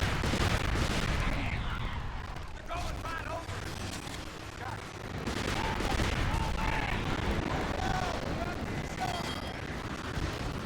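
Dense gunfire and explosive blasts from the video game Resistance 3, continuous and loud throughout, with voices talking over the din of battle.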